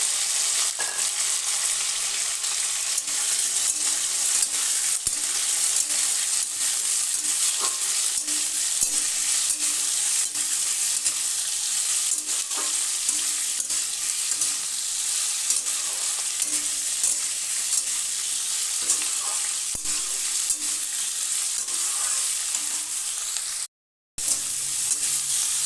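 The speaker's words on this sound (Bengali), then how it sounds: "সিদ্ধ করা নলগুলো দিয়ে দেবো" Boiled stalks for a sweet-sour-spicy pickle fry in a hot pan, a loud continuous sizzle with scattered stirring scrapes throughout, briefly cutting out near the end, no talk.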